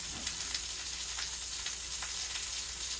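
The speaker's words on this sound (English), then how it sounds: "while our pork is browning" Pork loin browns in a pan with a soft, even sizzle and hiss, quiet and steady, broken by a few faint crackles.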